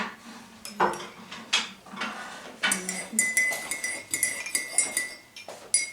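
A metal spoon stirs sugar into a cup, clinking against the sides in quick irregular bursts of close, bright taps with short pauses between them and no voices.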